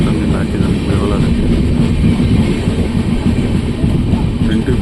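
The Mysore–Ajmer express running past Belagola station, heard as a loud, continuous rumble with rushing noise close around the listener.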